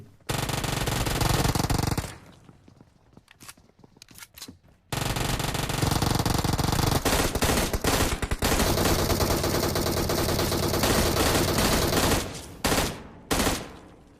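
An MG3 machine gun firing on full auto in the BGMI battle royale game, with long, loud, dense bursts of rapid gunfire broken by a brief lull and a few shorter bursts near the end.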